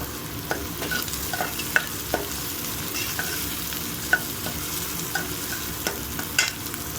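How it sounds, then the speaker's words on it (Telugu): Onions frying in a pan for egg fried rice, a steady sizzle with scattered crackles and pops throughout, close and continuous with no talking. "అప్పటి వరకు ఈ ఆనియన్స్ కొంచెం ఫ్రై అవుతుంది, గోల్డ్ కలర్ వచ్చే వరకు"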